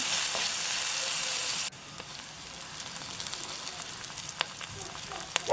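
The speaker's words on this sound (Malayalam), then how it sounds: "കുറച്ച് കറിവേപ്പില ചേർത്തിട്ടുണ്ട്. നന്നായി വഴച്ചെടുക്കാം." Onions and green chili sautéing in a pan with curry leaves, a steady close sizzle and frying hiss with small crackles and pops, with a brief louder burst at the start.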